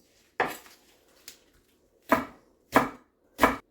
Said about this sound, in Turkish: Tekrar maydanoz kıyar gibi üstünden defalarca gideceğim ve incecik bu şekilde kıyacağım